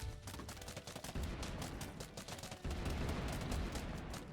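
A zombie-wave video game battle produces dense, rapid bursts of gunfire and explosions that roll on without a break, loud and layered, with the intensity rising partway through.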